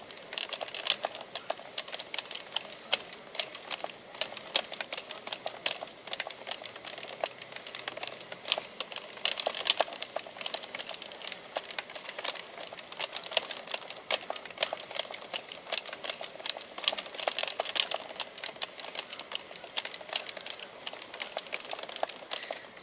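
Addi Express Pro knitting machine working through rows of yarn, a steady fast clatter of small plastic clicks and rattles continuing throughout at moderate, close range with no voices.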